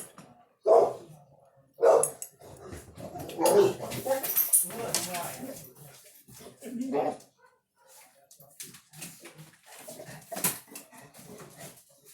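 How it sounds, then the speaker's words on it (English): A dog indoors in a home kitchen barks excitedly in a few sharp, spaced bursts, then whimpers and yips more quietly, while a person talks intermittently nearby. "Sorry, my dog was going a little crazy."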